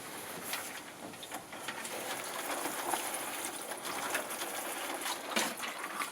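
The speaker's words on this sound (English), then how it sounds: "I'll give them a water and make sure that I've got a fine rose on the end of my watering can" Water from a watering can fitted with a fine rose sprinkles steadily onto freshly sown seeds, a soft continuous shower of spray with no talking.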